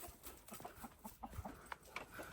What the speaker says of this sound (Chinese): 别吓人家鸡啊！